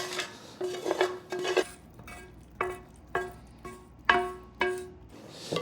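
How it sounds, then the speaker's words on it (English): A spoon stirs caramelized mushroom and onion mixture into soaked breadcrumbs and eggs in a bowl, making a run of distinct clinks and scrapes against the bowl at a fairly regular pace, close up and without speech. "Give that a stir."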